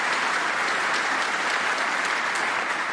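Applause from a snooker crowd at a World Grand Prix final, dense steady clapping throughout with no break, fairly loud and close.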